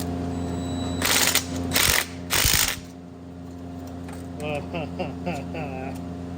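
A hand ratchet clicks rapidly as it runs a nut down a long threaded stud during a turbo upgrade, with loud bursts of mechanical whirring early, then short clusters of ratcheting nearby, amid background hum.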